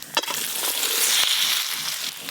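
Potatoes and eggplant hit hot oil tempered with five-spice and dried red chili, a loud, steady sizzle with brief stirring scrapes and a sharp clack near the middle, close up with no talking.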